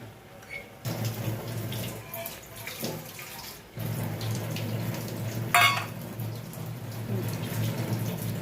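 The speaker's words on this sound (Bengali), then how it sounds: "একটু জল দিয়ে দিলাম একটু জল দেবো" Water pours into milk in a cooking pot in a home kitchen, a steady splashing stream that starts and stops several times, with a brief louder splash near the end.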